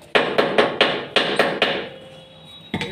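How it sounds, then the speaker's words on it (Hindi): Hammer blows drive a bolt tight on a Mahindra 265 tractor axle, six sharp metallic strikes in a steady rhythm over the first two seconds, then a pause and one more hit near the end, close and loud. "इसका जो ऊपर का बोल्ट है अभी वो टाइट नहीं है और उसको भी अभी ठोंक के टाइट करेंगे।"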